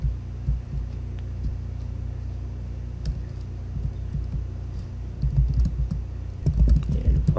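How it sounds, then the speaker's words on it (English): Someone types a short message on a computer keyboard, a steady run of light clicking keystrokes over a low background hum, growing a little louder and busier toward the end. "I'm just going to type in some real quick"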